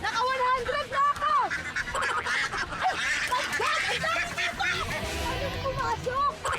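Laying ducks honk and quack in a noisy, overlapping flock at fairly close range, with some loud nasal calls rising over a busy background and people talking during an egg hunt.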